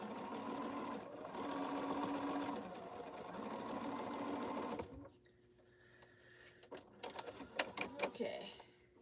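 A sewing machine stitches quilt binding in two loud, steady whirring runs, then falls quiet, giving way to scattered clicks and handling noises near the end.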